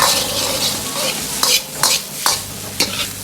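Chicken and shiitake mushrooms are stir-fried in a wok with sauce, oil sizzling steadily while a spatula scrapes and tosses the pieces in several sharp, regular strokes, close and loud with no talking.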